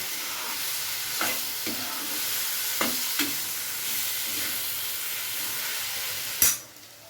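Fried soybean with grated coconut is stirred in a hot pan, a steady close sizzle punctuated by several scraping strokes of the spoon and a final sharp clank before it quiets.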